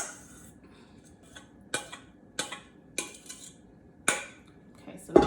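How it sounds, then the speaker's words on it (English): Dressing stirred into a bowl of vegan potato salad, a series of about six sharp utensil clinks and scrapes against the bowl at irregular intervals, close and distinct over quiet background. "I'm gonna stir this up"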